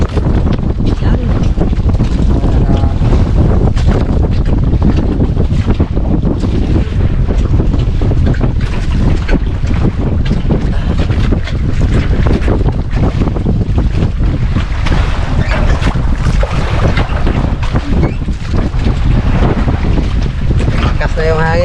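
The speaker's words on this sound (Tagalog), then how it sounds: "Lakas na yung hangin" Strong wind roars across the microphone at sea while fishing, constant and loud, with waves and a boat's rumble underneath.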